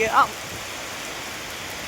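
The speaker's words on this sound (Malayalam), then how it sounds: "മുടിഞ്ഞ മഴയാണ് ഗൈസ്." Heavy rain pours down in a steady, dense hiss throughout, with strong wind, and a brief louder knock right at the start.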